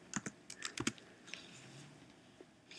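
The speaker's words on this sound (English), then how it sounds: "and you can simply type." Someone types on a computer keyboard into a content editor, a quick burst of close key clicks at the start, then a few sparser taps trailing off, faint and without talk.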